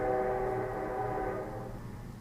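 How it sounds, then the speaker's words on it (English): A loud, sustained train whistle blares with steady harmonic tones, fading slightly toward the end. No voices. "So did you hear that train whistle?"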